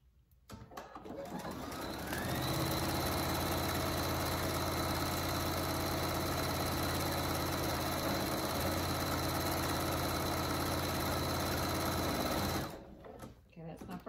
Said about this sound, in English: you're going to sew all the way around that fold with three stitches